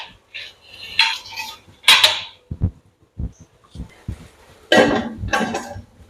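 A metal lid is handled and set over a chicken biryani pot. Several sharp clanks and clinks come in separate bursts with short knocks between them, close and clear, with no talking.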